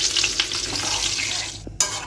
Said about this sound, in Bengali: আলুটা হ্যাঁ, ভাজছে